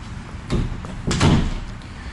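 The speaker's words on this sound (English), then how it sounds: "This closet door is not closing right." A closet door with a faulty hinge shifts twice, two short knocking, scraping bursts close by, about half a second apart, with no talk.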